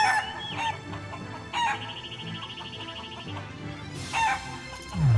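Chickens from the Shenmue III video game cluck and squawk in short bursts, with a rooster-like crow, spaced across a soft game backdrop of tonal effects and chimes.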